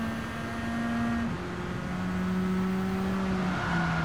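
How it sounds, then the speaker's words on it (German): A race car in Gran Turismo 7 drives on a wet track, its engine holding a steady hum that drops in pitch at each gear change, continuous and fairly loud with no talk. "Und das Auto fährt sich ziemlich geil."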